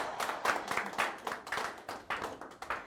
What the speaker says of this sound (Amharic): አንድ ጊዜ እስቲ በጭብጨባ ሞቅ አድርጋችሁ ተቀበሉልኝ።